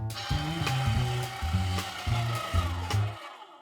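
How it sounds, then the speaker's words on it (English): Pork being pushed through a meat grinder, a loud, close mechanical whir with a low motor drone that dips and labors in repeated stepped surges before cutting off abruptly. "So you gotta grind your own meat."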